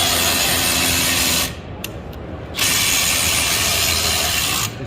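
A power drill or ratchet works on a broken-down truck at a shipper, whirring loudly and steadily, pausing briefly, then resuming close up.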